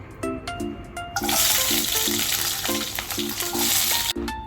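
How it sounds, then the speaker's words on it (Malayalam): Ginger and garlic hit hot oil in a pan and sizzle loudly and continuously up close, with a stirring spoon scraping and clinking in short repeated strokes over the frying. "ഇഞ്ചിയും വെളുത്തുള്ളിയും എണ്ണയിട്ട് വരട്ടണം."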